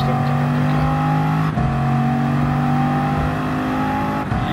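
Bugatti Chiron engine in GT Sport accelerating on an oval track, a loud steady high whine with rising pitch and a brief shift change partway through.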